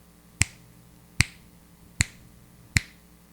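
Four crisp finger snaps ring out one at a time at an even, unhurried pace, each sharp and close against a quiet room with no talking.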